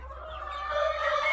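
Backyard roosters cluck and warble in a short, continuous stretch of close, moderately loud fowl calls, with no talking.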